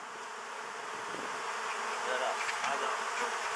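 A dense, steady buzzing of many bees fills the air, close and continuous, heard from among the hives while beekeeping, growing slightly louder toward the end.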